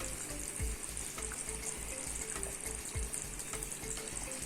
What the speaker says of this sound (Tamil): அந்த ரோகு மீன் வாங்கியிருக்கேன் நம்ம மீன்களை இப்போ சேர்த்திக்கலாம்